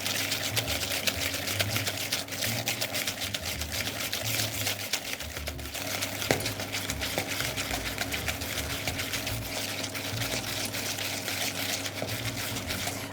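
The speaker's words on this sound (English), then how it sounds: "I'm going to keep whisking a little bit more" Steady, continuous whisking of sugar into a smooth paste in a bowl, a dense rapid scraping texture running unbroken and close throughout.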